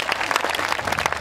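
Audience applause at a Hindi comedy poetry show, a brief dense wash of clapping from a crowd, fairly steady and moderately loud with no talk.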